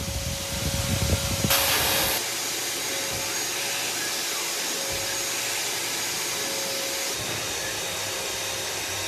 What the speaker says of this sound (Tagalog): parang sinisip-sip talaga niya yung tubig sa loob ng sofa